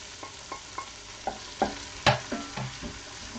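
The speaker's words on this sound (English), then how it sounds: "just get the butter to melt in there. And then add the leek" Leek fries in melted butter in a pan, sizzling steadily while a utensil stirs it in regular scraping pushes, close by and with no talk.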